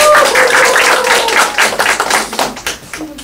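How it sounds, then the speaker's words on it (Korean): Audience clapping in a lecture hall on a talk about parenting, a dense burst of hand claps close by that thins into scattered claps and fades out over about three seconds, with no voices over it. "우리 박수 한번 쳐주세요."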